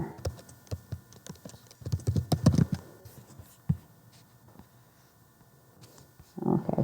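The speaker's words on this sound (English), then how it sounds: "I'm just typing this quick" Quick bursts of typing on a computer keyboard, close and fairly quiet, with clusters of clicks separated by pauses and a louder flurry near the end.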